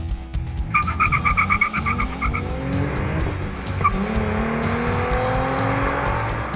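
A 2010 Hyundai Genesis Coupe 3.8 V6 with track pack, 19-inch Bridgestones and Brembo brakes is driven hard, its engine note rising and falling steadily with brief tire squeal under continuous road noise.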